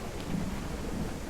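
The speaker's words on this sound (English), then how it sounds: "I hear the thunder rolling." Thunder rolls through the Bastide city-building game as a low, continuous rumble with a faint rain-like hiss, steady and moderately quiet throughout.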